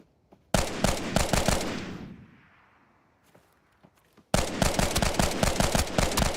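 Loud automatic gunfire in the Arena Breakout Infinite video game comes in two bursts of rapid shots, separated by a fading echo and a few faint pops in a near-silent gap.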